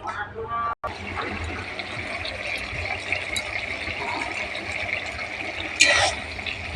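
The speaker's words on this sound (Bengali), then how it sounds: "ডুমুর আলু দুটোই কিন্তু সেদ্ধ হয়ে গেছে এবার কড়াতে ঢেলে নিই" Boiled figs and potatoes are poured out of a pressure cooker into a wok with a steady wet, sloshing rush and a brief louder splash near the end, while someone talks over it.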